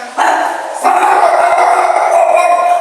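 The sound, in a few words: dog barking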